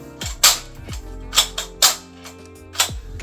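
Toy Ruger Mini 14 tactical rifle with its bolt stop released, the bolt slamming forward in several sharp, close metallic clacks spaced about half a second apart, with no talk.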